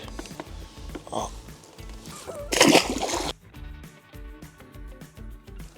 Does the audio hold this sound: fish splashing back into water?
yes